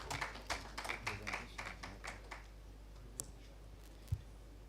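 Sparse audience clapping at a national dialogue meeting on child trafficking in Uganda. A few faint, scattered claps come in a loose rhythm at first, then thin out into occasional isolated taps.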